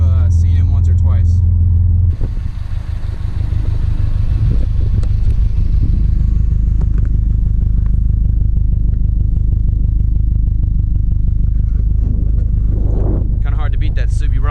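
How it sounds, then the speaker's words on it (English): Subaru Forester XT engine with a fault causing a rough low-RPM stumble, rumbling loudly and steadily up close for the whole stretch, with a deep continuous low drone and no talk over it. "Kind of hard to beat that Subi rumble"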